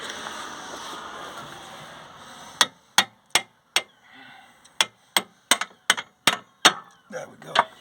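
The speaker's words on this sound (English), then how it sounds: "Can tap that in with a hammer" Sharp metallic hammer taps on a Volkswagen T4 suspension part, about a dozen spaced strikes, some in quick pairs, ringing brightly after a stretch of low workshop noise.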